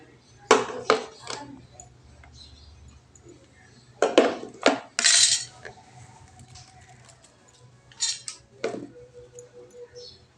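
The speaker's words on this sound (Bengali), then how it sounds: "এবার হলুদ আর লবণ মেখে নেব" Koi fish in a dish being rubbed with turmeric and salt, giving a few separate bursts of wet handling and light clinks against the dish, with quiet gaps in between.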